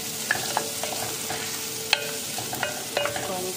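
Shrimp heads and cleaned shrimp bodies sautéing in a pan, with a steady sizzle under repeated light scraping stirs and occasional clinks, close and continuous.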